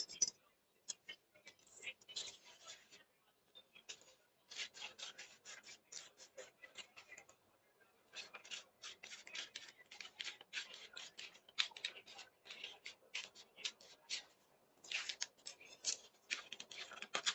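Scissors snip through fabric in quick runs of crisp cuts, shaping blouse sleeves during tailoring practice, close and quiet, with short pauses between bursts.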